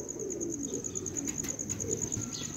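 Soft, low coos from red-eyed pigeons murmur steadily beneath a constant high-pitched hum, with faint chirps scattered throughout.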